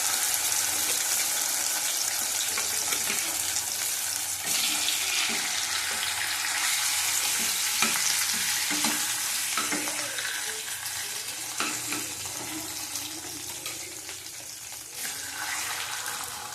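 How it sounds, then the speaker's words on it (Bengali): Pieces of katla fish fry in hot oil in a pan, giving a steady, close, loud sizzle with scattered crackles and occasional stirring or scraping sounds, and no talking. "দেখো, এই কটা ভাজা হয়ে গেলে তারপরে রান্নাটা করব"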